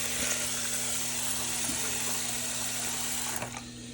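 Jasmine rice is washed under running tap water in a kitchen sink, a steady loud hiss of flowing water with faint clinks.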